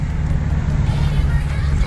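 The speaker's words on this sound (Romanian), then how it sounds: "Uitați-vă bolidul cum se aude." A car drives along a highway in Las Vegas, its engine and road roar forming a loud steady low drone heard from inside the vehicle, continuous throughout.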